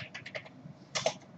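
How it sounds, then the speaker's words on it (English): Quick, light taps on a computer keyboard come in short irregular bursts, close by but quiet, with no talking. "So you're gonna type in like Mike, James, weird name"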